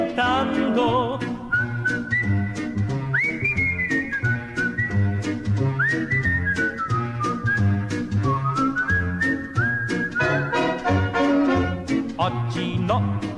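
Melodic whistling carries the tune of an Italian baritone's song over a full orchestral accompaniment, the whistled line gliding and sustained across most of the passage, loud and close.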